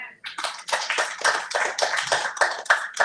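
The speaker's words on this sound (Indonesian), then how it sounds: "Berikan tepuk tangan." A church congregation claps together in a loud, steady rhythm of distinct hand claps, close and continuous with no talk over it.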